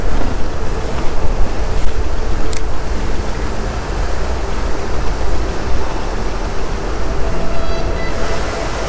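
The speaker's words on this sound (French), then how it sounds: "Il y a le vent qui vient s'engouffrer." Wind gusts into a canal lock in a town centre, a loud, continuous rushing roar with buffeting against the microphone, steady throughout with slight surges, and no voices.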